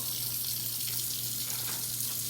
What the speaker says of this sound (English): Just simply rinse it off.